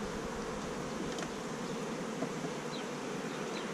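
Bees buzz in a dense, continuous drone, many insects humming close by at a steady, even level with no voices.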